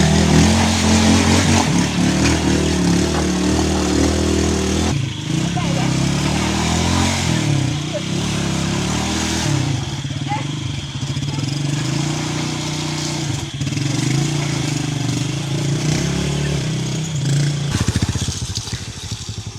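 A motorcycle travels a rough, rutted detour road near Nkonjok, Cameroon, its mid-pitched engine droning steadily and shifting as it revs and settles, close and loud throughout with brief changes in load.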